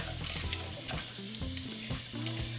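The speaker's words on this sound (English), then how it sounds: "I'm gonna throw my onions into my saucepan and then we're gonna go for our garlic" Onions and garlic sauté in a saucepan with a constant close sizzle and crackle, while a utensil stirs now and then, and no one speaks.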